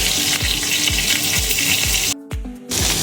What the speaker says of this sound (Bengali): এবার তেলটা গরম হলে আমি পটলগুলো এবার ছাড়বো।